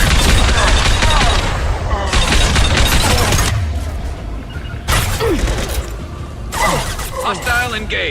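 Heavy gunfire and explosions in Mass Effect 2 combat, loud continuous bursts with booms and clattering impacts, mixed with brief shouted squad callouts.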